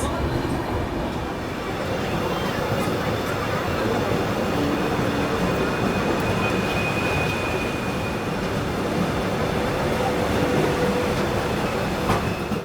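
Anand Vihar–Sitamarhi Lichchhavi Express standing at Chhapra Junction station in Bihar, with a steady broad rumble of rail noise and station din throughout, a faint tone and occasional clicks above it.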